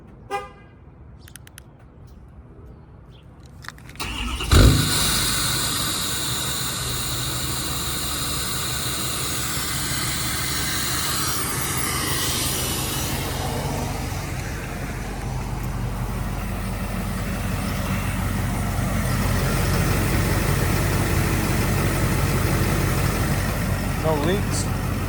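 A 20-plus Ford F-350 dually long-bed diesel with a new fuel system cranks with a sharp burst, then settles into a steady, loud, rumbling idle that holds throughout, with a person talking over it.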